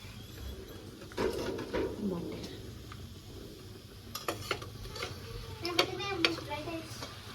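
Mutton is stirred and fried in a pan, with intermittent metal scrapes and clinks of a spoon against the pan over a faint sizzle.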